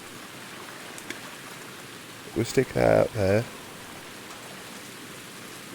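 Steady rain patters across a lake during a fishing session, a dense hiss of drops that runs the whole way while someone briefly speaks partway through.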